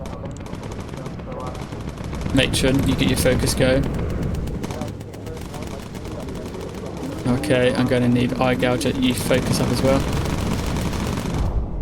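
Cannon fire in the video game Bomber Crew comes in two rapid bursts of repeated shots, each lasting a couple of seconds, under steady engine drone while a player talks continuously over it.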